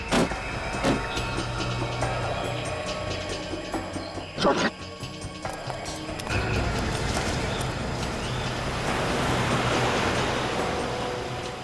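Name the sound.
car driving fast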